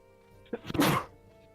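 A single sharp sneeze bursts out, short and fairly close, against a quiet background.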